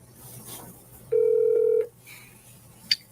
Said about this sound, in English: Phone number we're calling him at.